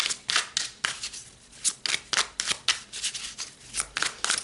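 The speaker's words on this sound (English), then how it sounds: "So let's pull some more cards." Tarot cards are shuffled and pulled in a quick series of crisp riffling bursts and slaps, close and fairly quiet, with no talking.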